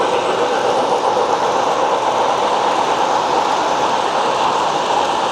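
An O scale model train locomotive, a Big Boy, runs at a model train fair, giving a steady, dense rushing rumble that stays constant and fairly loud throughout with no talk.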